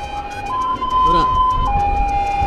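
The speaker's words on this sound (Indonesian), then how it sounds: "Ada ambulan teman-teman, kita kasih jalan dulu ambulan ya" An ambulance siren wails in traffic, a steady two-tone sweep close by over road and engine noise, with people talking.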